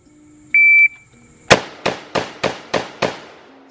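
Bullpup rifle fired at a shooting range: a shot timer's electronic beep, then six sharp, loud gunshots in quick, evenly spaced succession at close range.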